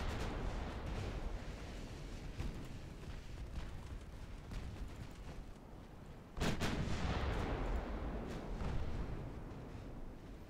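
Naval dreadnought battleship and cruiser guns firing in a video game make a continuous rumbling barrage, with one heavy boom partway through that pushes the roar louder afterward.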